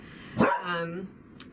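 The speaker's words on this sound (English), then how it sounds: "if you hear a dog barking in the background" A dog in the background gives one bark that stretches into a short whining tail, then goes quiet. The setting is an artist's painting studio, and no one speaks over it.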